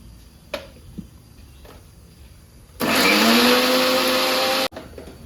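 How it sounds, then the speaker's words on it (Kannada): After two faint knocks, a mixer grinder grinds cooked bottle gourd for gojju, a loud steady whirring roar lasting about two seconds before cutting off abruptly. "ಬೇಯಿಸಿಟ್ಟಿರೋ ಸೋರೆಕಾಯಿ ಇದ್ರೊಳಗೆ ಹಾಕ್ಕೊಂಡು ಮತ್ತೆ ಗ್ರೈಂಡ್ ಮಾಡಬೇಕು"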